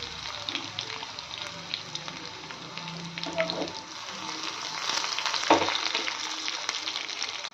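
Garlic fries in hot tempering oil for moong dal rasam, a steady close-up sizzle with fine crackling and occasional louder spits throughout.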